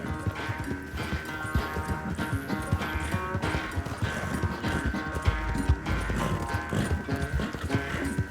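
Steady hoofbeats of a galloping horse in Red Dead Redemption 2 over a dense, continuous game soundtrack with music, the rhythm driving on without a break.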